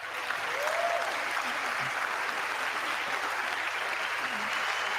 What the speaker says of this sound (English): Can we just hold the applause until the end?